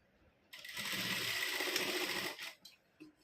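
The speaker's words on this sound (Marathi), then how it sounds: "तिरकी स्ट्रेट शिलाई मारून घ्यायची." A sewing machine runs a straight slanted seam in one continuous burst of whirring stitches lasting about two seconds, followed by a couple of short mechanical clicks.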